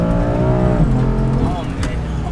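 Someone's BMW M3 engine revs, heard from inside the car as the pitch climbs and falls. The engine stays loud and close while people talk over it.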